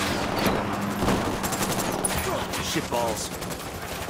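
Dense, continuous gunfire crackles through a Ghost Recon Wildlands firefight, with rapid shots layered over a steady rumble as a voice briefly speaks over it.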